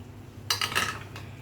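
A spoon scrapes and clinks against a pot while chicken achar gosht is mixed, a short burst of two or three metallic clanks in an otherwise quiet moment.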